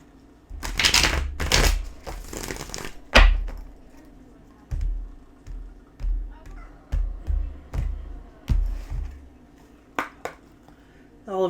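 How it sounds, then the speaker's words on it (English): Tarot cards being shuffled for a Capricorn reading, heard as a run of soft riffling bursts and rhythmic papery slaps, fairly close and fairly loud, with short gaps between them. "All right, one more shuffle"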